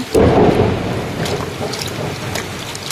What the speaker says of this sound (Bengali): দেখো কেমন মেঘ ডাকছে, মাছ ধুতে ধুতে তো ভয় পেয়ে গেলাম।